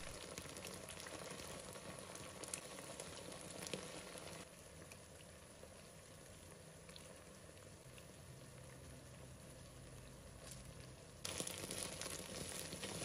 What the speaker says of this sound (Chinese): 一面煎金黄后，我们翻个面，也把它煎至金黄色